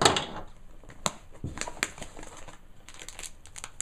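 Disposable hand warmer packaging crinkles close up in quick irregular bursts of crackling plastic, alone without talk.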